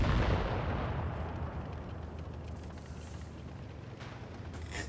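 Tank cannon shots from an AMX M4 mle. 54 in World of Tanks Blitz, a heavy boom at the start that decays into a long rumbling tail, with fainter distant shots following.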